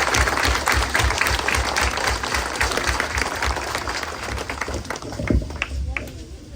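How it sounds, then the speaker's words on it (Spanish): A crowd at a neighborhood mass honoring Santo Tomás applauds steadily, dense clapping sustained for several seconds with some thumping underneath, tapering slightly near the end. "Un aplauso a Santo Tomás."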